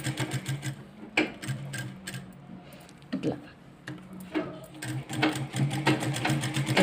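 A sewing machine runs in short bursts of rapid stitching while a dot-shaped belt is sewn onto the front of a dress, close and clear, with pauses between runs and someone talking at times.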